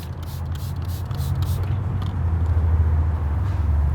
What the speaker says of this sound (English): Spray a little bit more for extra lubrication.